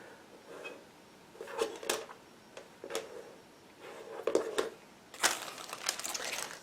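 Plastic sprues from a Miniart 1/35 T-44 tank model kit rattle and clack as they are handled, with short irregular bursts of crinkling and tapping, close and moderately quiet, with no speech.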